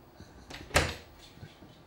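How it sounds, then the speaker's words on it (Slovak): A door opens with one short, knocking burst midway, close by and fairly soft, against quiet room tone. "Otvorili sa nám dvere."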